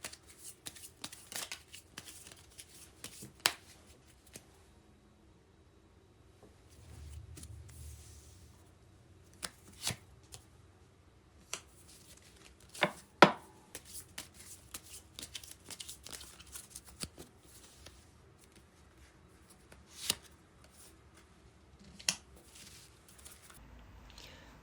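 Tarot cards are shuffled and drawn, giving soft riffling swishes punctuated by sharp irregular snaps and slaps of cards. The sounds are close and intermittent over a quiet background.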